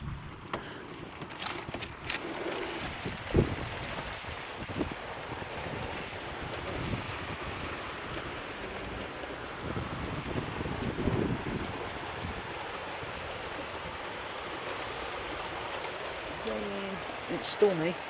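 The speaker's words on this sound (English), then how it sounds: "it's stormy, and there's been loads of lightning, thunder and lightning. And it's hailstones that's coming down" Heavy stormy rain with hailstones and strong wind in London, a continuous broad rushing wash with gusty buffeting on the microphone and a few louder knocks, under a voice talking.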